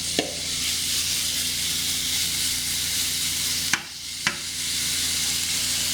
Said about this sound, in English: I have my pan preheated over medium heat, so this should sizzle just a little bit